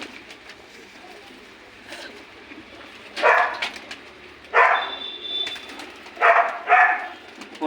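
Pigeons in Jammu's Old City coo and rustle in several short bursts, close by and moderately loud, over a low background hum, with a dog-like bark mixed among the calls.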